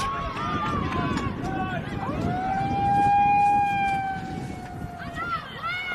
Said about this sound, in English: I think that siren might be a wind warning